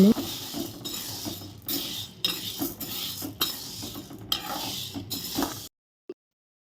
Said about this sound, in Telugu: గ్యాస్ని మీడియం ఫ్లేమ్లో పెట్టి ఇలా కలుపుకుంటూ వేయించుకోవాలి